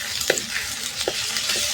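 Onions frying in a pan as the base for a dried fish curry, giving a steady close sizzle with a few brief stirring scrapes and no talk.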